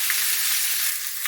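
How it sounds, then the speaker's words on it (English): Pork chops sizzle and crackle steadily in a hot pan, a close, bright hiss with no talking over it. "the edges will begin to sizzle on the fatty side"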